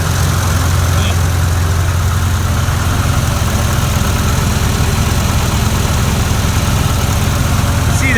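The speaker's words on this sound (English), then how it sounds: "This has been running for about 5-10 minutes, so the engine should be warm." A vintage tractor engine with a 12-volt conversion idles steadily outdoors in the cold, warmed up after several minutes of running, giving a continuous low, even rumble close by with no talking.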